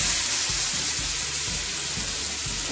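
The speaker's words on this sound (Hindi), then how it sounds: "जब तक हमारा चिकन फ्राई हो रहा है" Chicken pieces for homemade tandoori chicken fry in about two spoons of oil in a kadhai, a steady close sizzle with soft rhythmic bubbling pops underneath and no talk.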